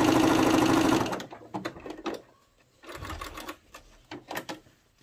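A sewing machine stitching lace appliqué runs in a fast, even whirring clatter for about a second, then stops, followed by scattered clicks and handling sounds of fabric and machine parts.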